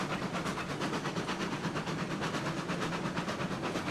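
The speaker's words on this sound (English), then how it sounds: "Eureka is still a great looking locomotive." The Eureka steam locomotive running in the video game RailRoads Online, a steady, dense rolling rumble with rapid rhythmic chuffing or clacking pulses throughout, loud and continuous with no talk.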